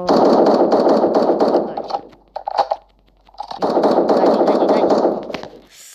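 Rapid automatic rifle fire crackles in bursts in the online shooter game 1v1.lol, two long sustained volleys with a few scattered shots and a short gap between them.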